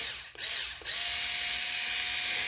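A cordless electric torque screwdriver from MDBTTOOLS whirs close by, briefly stopping twice as it switches from unscrewing to tightening, then running steadily with a thin mechanical whine.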